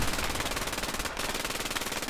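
Sustained machine gun fire in the World War II video game Post Scriptum, heard as an unbroken, evenly paced stream of rapid shots throughout.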